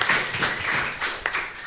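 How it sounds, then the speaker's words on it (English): An audience applauds as a volunteer is invited up on stage at a live comedy show, a dense, steady wash of clapping with a few sharper individual claps standing out. "Big round of applause"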